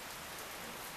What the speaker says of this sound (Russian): и вот он первый обильный дождь. Слышите, как он капает?